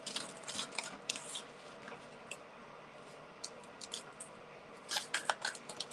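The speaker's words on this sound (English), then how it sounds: "let me shuffle on camera and see what pops out" A deck of cards is shuffled by hand close up, producing soft, quiet riffling clicks and flutters in uneven bursts, with no talking.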